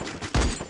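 Rapid gunfire exchange in an online shooter game, a short dense burst of shots, loud and close, standing alone.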